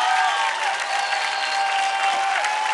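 Loud, continuous audience applause fills a television dance competition stage, a dense steady wash of clapping from a large crowd with no gaps throughout.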